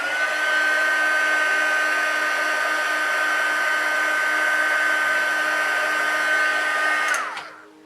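A heat tool heat-setting paint on the shading of doll legs, a steady loud whirring blow with a high whine, running continuously for about seven seconds before switching off and winding down.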